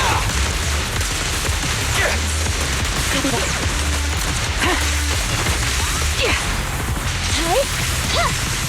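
Rapid gunfire barrage from the video game Zenless Zone Zero, a dense run of shots, whooshes and impacts layered with game effects, ongoing throughout.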